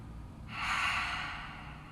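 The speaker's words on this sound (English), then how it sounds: "So keep those yawns flowing and going." One person lets out a long, breathy yawn partway through a quiet restorative yoga session, swelling up and slowly easing off against a low, soft background.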